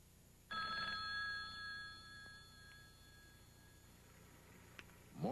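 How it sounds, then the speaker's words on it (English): An old telephone bell rings once for an incoming call, a bright sustained metallic ring that starts abruptly and decays over a few seconds, followed by quiet with a faint click near the end. "Morgan receives a phone call from a logger named Skip Wood."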